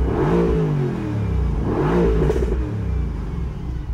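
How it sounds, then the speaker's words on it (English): A car engine revs in two surges and then settles back toward idle, loud and close, likely heard from inside or beside the car while it sits in traffic. "Do you want to hear the car quick?"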